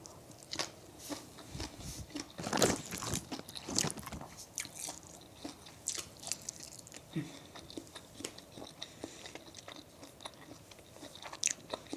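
Frozen papaya salad (som tam) being chewed up close, with crisp, irregular crunching bites that keep coming steadily and loudly, and no talking.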